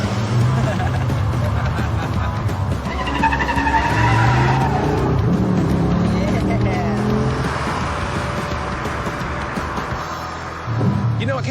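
A car driven hard on a test drive, tires squealing and skidding under a loud revving engine, sustained for several seconds with voices talking over it.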